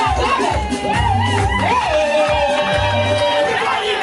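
A festive crowd cheers and whoops at a 50th birthday party, heard under loud music with singing, while people talk nearby.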